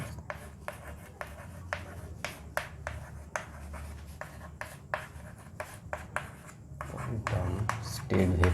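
A pen or chalk writes steadily on a board, making a close series of quick scratchy strokes and taps, with a louder rubbing shuffle near the end and no talking.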